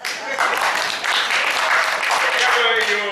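An audience claps along at an event in Memphis, Tennessee, a dense, steady wash of many hands that fills the whole stretch at close range. Voices or singing seem to blend in with it.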